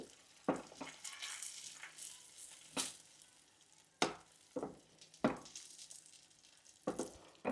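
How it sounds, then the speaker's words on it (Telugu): A spoonful of butter hits melting sugar in a pan for homemade butterscotch, giving quiet sizzling with repeated sharp scraping and clinking stir strokes at irregular intervals, close and fairly soft. "పంచదార అంతా ఇలా కరిగిపోయి కొంచెం మనకి ఉడకడం స్టార్ట్ అయిన తర్వాత ఇక్కడ ఒక స్పూను బటర్ అండి"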